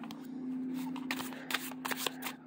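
A deck of cardstock cards being shuffled, soft riffling bursts close up over a steady low hum, with no talk.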